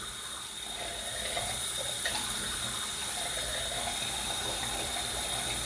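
Steady water running from a tap into a sink while rinsing off after shaving a head, a continuous close hiss and splash that swells slightly and then stays even.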